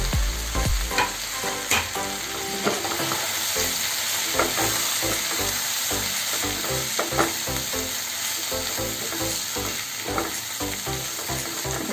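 Capsicum, onion and soybean chunks frying in a hot pan for chilli soyabean, with a steady sizzle and repeated rhythmic clanks of a spatula stirring and scraping, close and alone without talk.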